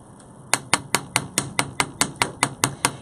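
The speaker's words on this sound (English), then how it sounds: "so I'm going to hammer it" Sharp, evenly spaced hammer strikes flatten a thin 20 gauge wire star on a metal bench block, about a dozen ringing metallic taps in a steady rhythm after a short quiet start, close and fairly loud.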